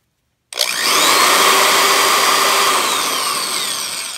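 A vintage Craftsman variable-speed power drill switches on in reverse after a brief silence and spins up to a loud, steady motor whine with a high buzzing edge. The whine holds nearly constant, then eases slightly near the end.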